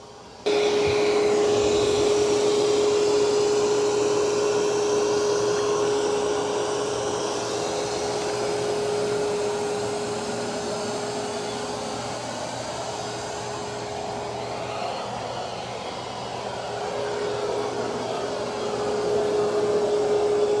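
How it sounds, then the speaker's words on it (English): An ECOVACS DEEBOT N20 Plus robot vacuum cleans a set zone indoors, giving a loud, steady whine and whoosh that rises and falls slightly over about twenty seconds. "I've got it vacuuming inside that blue box"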